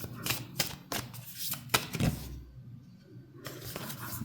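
Cards are shuffled up close in a quiet room, a quick run of crisp riffling flutters with brief pauses, followed by a softer stretch.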